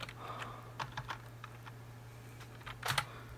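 Scattered keystrokes on a computer keyboard while a name is entered during Windows 7 setup on an old PC, a few isolated taps and then a quick double click, quiet over a steady low electrical hum.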